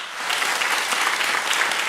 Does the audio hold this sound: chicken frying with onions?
no